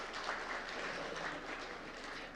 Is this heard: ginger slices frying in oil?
no